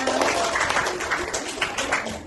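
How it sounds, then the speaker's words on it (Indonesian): Classroom applause from students during a lesson: a brief, dense burst of many hands clapping together, fairly loud and continuous, with some voices mixed in. "beri tepuk tangan"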